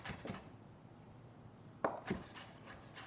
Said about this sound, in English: I'm just going to do a rough chop.